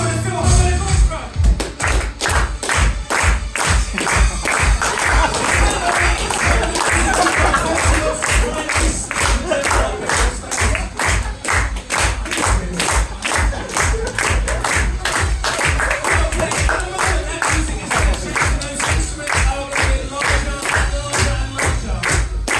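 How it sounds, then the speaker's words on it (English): An audience at a hypnosis show at Colchester Fringe claps along in time with music, loud, sharp, evenly spaced claps repeating steadily throughout over the music. "Okay, ladies and gentlemen, clap along in time with the Philharmonic Orchestra."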